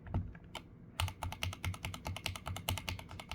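Mechanical keyboard switches with no O-rings clack under quick, close typing: a dense run of sharp, bright keystrokes after a brief pause near the start.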